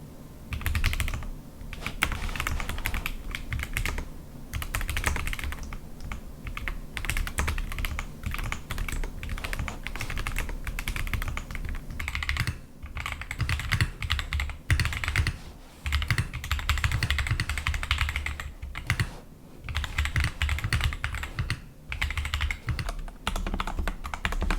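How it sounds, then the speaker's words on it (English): Keys clatter on a custom-built keyboard fitted with middleweight domes, a steady run of close, crisp typing with brief pauses that carries on throughout. "So I've built this keyboard with the domes that were the middleweight."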